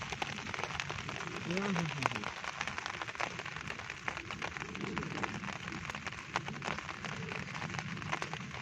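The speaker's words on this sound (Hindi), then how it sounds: "हफ्ता हो गया बारिशें लगी हुई हैं, मौसम बहुत ठंडा है" Heavy rain pours steadily onto a mango garden, a dense continuous patter close by, with a voice calling briefly partway through.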